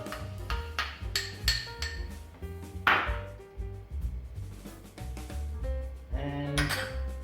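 Guacamole ingredients being stirred together in a bowl: garlic, sour cream and tomato. Steady clinks and scrapes of a utensil against the bowl, with a sharper clatter partway through.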